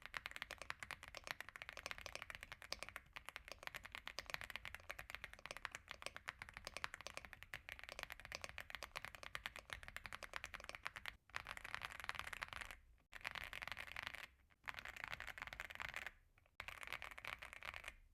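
Fast, continuous typing on a budget mechanical keyboard with Reaper switches produces dense, close clacking keystrokes in long bursts broken by several short pauses, with no voice present.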